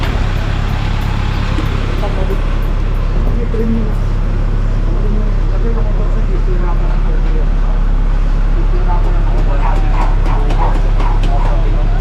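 A dog yips and barks intermittently in the background, partly masked by steady low traffic rumble and some nearby talking.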